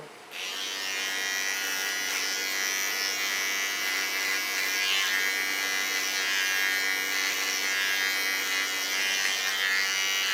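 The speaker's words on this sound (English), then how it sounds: "Take my small Keone clipper." A small Keone electric hair clipper buzzes steadily and close up while trimming hair, a constant high whine with small shifts as it moves.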